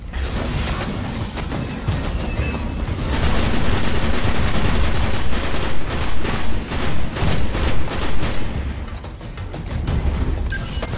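Grenade throw and blast amid loud game combat in Destiny, with dense gunfire and booming impacts continuing throughout and swelling in the middle.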